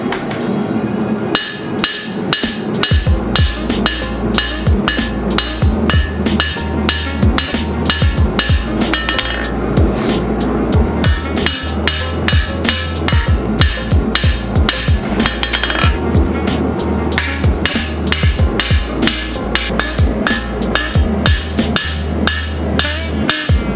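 Rapid, loud hammer blows ring on steel as bevels are forged into a sword blade at an anvil, a close, continuous rhythm of strikes with metallic clinks and no voices.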